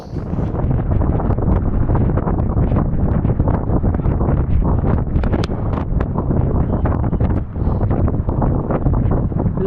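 Strong wind on open Dartmoor moorland buffets the microphone in a loud, continuous roaring rumble with gusty flutter throughout, drowning out everything else.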